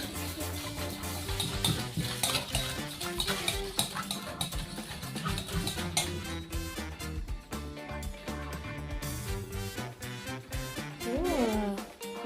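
Kids stir bibingka batter in a mixing bowl, a steady scraping and clinking of utensil against the bowl running throughout at close range, with busy background noise.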